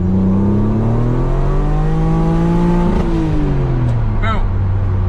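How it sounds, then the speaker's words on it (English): Performance street car engine being floored from about 60 to 110 km/h, rising in pitch as it revs hard toward red line, loud and close throughout, with a brief shift-like break midway and a short speaking voice near the end. "I'm just literally gonna tell you when I floor it, and then I'll hit red line."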